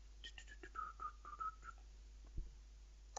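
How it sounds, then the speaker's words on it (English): Faint whistling picked up by a headset microphone, a short run of breathy, wavering notes sliding downward over about a second and a half, quiet and close, followed by near silence and a soft click. "gonna have to edit out that whistling"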